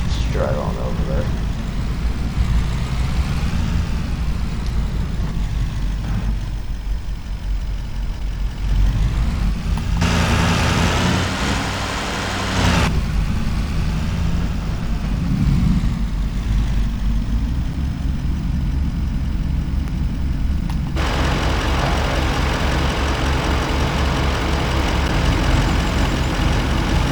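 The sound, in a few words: truck driving in the Farming Simulator 25 video game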